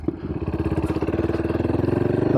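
Royal Enfield Hunter 500 engine thumping steadily while riding on the road to wear it in, a close, even rhythmic pulse that holds a constant pace throughout with no talking.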